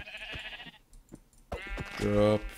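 A blocky sheep in the Minecraft video game gives one short, clear bleat near the end, after a few other in-game noises and soft background sounds.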